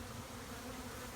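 Honeybees buzz steadily and close by while honey frames are being pulled from the hive, a dense continuous hum with no talking.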